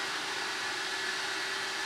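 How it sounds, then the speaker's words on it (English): A vacuum cleaner runs steadily in the background while a fleece guinea pig house is being shown, a constant quiet whirring drone with no talk over it. "sorry about the vacuum in the background"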